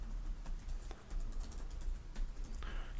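Quick, irregular keystrokes on a computer keyboard, close and fairly quiet, with a few sharper taps standing out over a low room hum; no one speaks.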